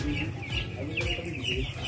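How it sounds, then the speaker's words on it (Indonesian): Young broiler chickens, about five days old, peep and chirp continuously as a dense flock inside a closed poultry house, with a steady background hum. "Kita bisa melihat posisi ayam umur 5 hari plus, jadi masuk 6 hari"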